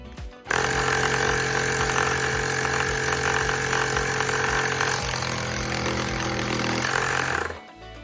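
A tire inflator running off a portable power station kicks on abruptly and holds a loud, steady mechanical drone with a rapid pulsing pump rhythm for about seven seconds, then cuts off, close by with no talk.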